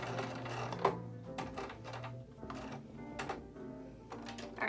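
A sewing machine stitching a pillowcase into a window valance, running in short uneven bursts with rapid mechanical ticking and whirring, close but fairly quiet, with no voices.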